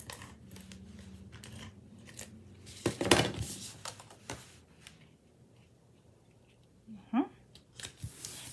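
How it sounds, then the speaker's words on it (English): Scissors snip out a white scalloped paper shape for a stamped card, with soft crisp cuts and paper rustling close by, a louder burst of crinkling midway, and a few light handling taps near the end. "Then I cut a white scalloped one out"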